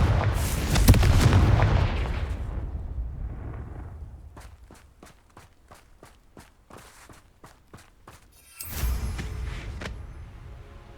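Confringo spell blasts in the video game Hogwarts Legacy: a loud booming burst opens, then a run of quick sharp crackling pops, and a second heavy blast lands near the end.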